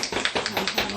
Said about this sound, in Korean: 박수 쳐줘야죠